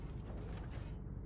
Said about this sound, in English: Firing at maximum distance. First volley.